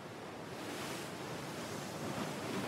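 Waves break at the Baie des Trépassés on the Plogoff coast in Brittany, a dense, continuous roar of surf with wind buffeting the microphone, loud and steady throughout.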